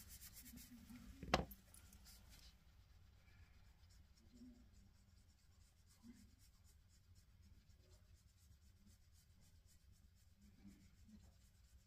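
Soft, continuous scratching of a Mondeluz colored pencil pressed firmly onto paper, faint and close, with one sharp tap early on and quiet strokes continuing throughout.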